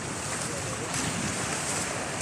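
Strong wind buffets the microphone with a loud, rushing roar, steady and gusty, like standing outdoors in a storm.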